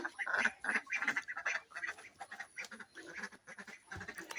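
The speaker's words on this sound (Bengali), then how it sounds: "দরজা খুলে দিলাম এখন হাঁস বের হচ্ছে" Several ducks quack loudly and close by in a busy, overlapping chorus as they come out of a coop, with calls bunching in quick bursts throughout.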